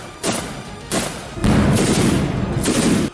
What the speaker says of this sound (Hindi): इस दौरान रूस के कुछ सिपाहियों ने यूक्रेन के ठिकानों पर दनादन गोलियां भी बरसाईं।